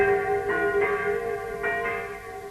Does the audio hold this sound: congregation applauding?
no